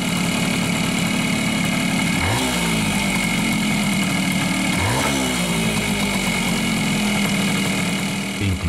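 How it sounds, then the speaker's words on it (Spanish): A Suzuki AX100 motorcycle engine idles loud and close, its revs twice rising and sagging by themselves in slow surges. "Como podrán escuchar, la marcha del motor se acelera solo de la nada y sin motivo aparente, incrementando las revoluciones."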